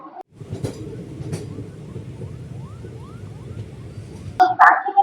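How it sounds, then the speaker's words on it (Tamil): A weekly express train from Coimbatore to Rameswaram pulls out of Erode Junction, a steady low rumble with rhythmic wheel clicks, then a voice speaks up close near the end. "இப்ப நம்ம ஈரோடு ஜங்ஷன்ல இருந்து ட்ரெயின் மூவ் ஆகி போயிட்டு இருக்குங்க"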